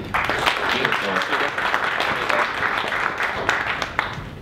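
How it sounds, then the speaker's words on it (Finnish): An audience at an informal candidate debate in a beer hall, held by the Finnish Ecomodernists, gives brief applause. The clapping is scattered and moderately loud, with crowd murmur and voices mixed in throughout. "Ja pienet aplodit"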